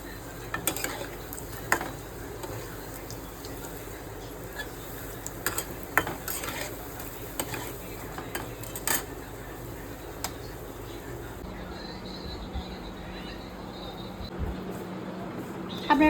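Pumpkin flower fritters fry in a wok with a steady, moderate sizzle, broken by scattered clinks and scrapes of a utensil against the metal, with faint talk in the background.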